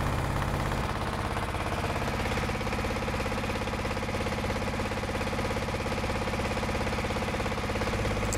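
A river boat on the Buriganga near Babubazar ghat running along the bank, its engine thudding in a steady rapid rhythm, loud and close, unbroken for the whole stretch with no talk.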